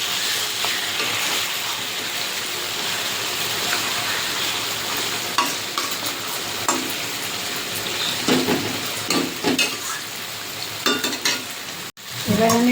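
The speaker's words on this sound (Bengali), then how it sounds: "চিকেনের পিসটা ভাজা হয়ে গেছে, এবার এই পিসটাও আমি উল্টে দেবো।" Chicken chaap pieces fry in a pan, giving a dense, fairly loud, continuous sizzle and hiss, joined near the end by scraping and clinking as the pieces are turned.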